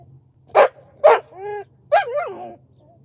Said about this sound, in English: Sakura barks when she wants to play